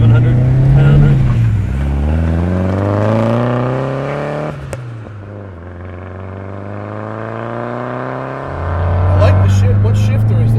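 An SR20-swapped Nissan 240SX engine pulls hard through the gears on the road, rising loud revs, a dip at a shift, then climbing again as someone talks over it.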